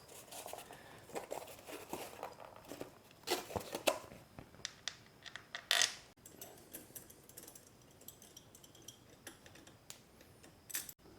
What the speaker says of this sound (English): Next I can install the clutch cover screws